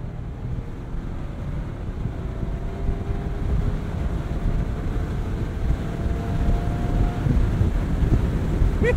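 A 2023 Mazda MX-5 Miata with a manual gearbox and 181-horsepower engine drives along, its steady low engine drone blended with heavy wind and road rumble throughout, with no talking.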